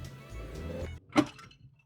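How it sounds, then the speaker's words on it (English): A shovel breaks: a low rumbling scrape followed by one sharp, loud crack, then a brief rattling tail fading to quiet. "that's the sound of the shovel breaking"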